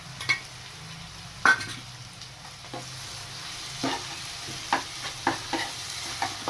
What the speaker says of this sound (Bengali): আদা লঙ্কা রসুনের পেস্টটা হালকা ফ্রাই করে